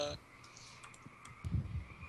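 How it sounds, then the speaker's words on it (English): Crickets or frogs chirp outside a window, a faint repeating pulsing chorus in the background, with some soft clicks and low thumps nearby. "Yes, you do hear crickets. Yes, that's actually my window."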